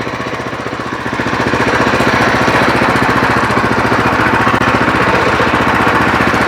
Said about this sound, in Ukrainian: Мотоблок повністю керований.